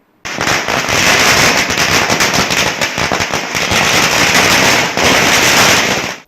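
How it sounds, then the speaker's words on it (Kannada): BJP workers and supporters in Chelur set off firecrackers in celebration, a loud, dense string of rapid cracks and pops bursting continuously for about six seconds with no talk. "ಪಟಾಕಿ ಸಿಡಿಸಿ ಸಿಹಿ ಹಂಚಿ ಸಂಭ್ರಮಿಸಿದರು"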